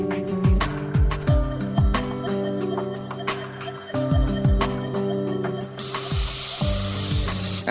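An airbrush sprays paint onto a scale model in short hissing bursts, interleaved with frequent clicks and tapping handling noises, ending with a longer continuous spray hiss.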